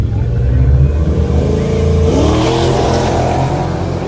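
Drag race cars, among them a BMW, launch and accelerate hard in a grudge race at Bridgewars, a loud, steady engine roar rising in pitch with a crowd murmuring underneath.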